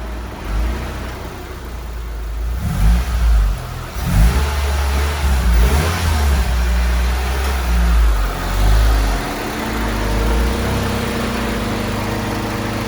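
A 2006 Mitsubishi Lancer with a repaired gearbox is driven through its gears and into reverse, a loud close engine drone that rises and falls in several revving swells over a constant low rumble, without speech.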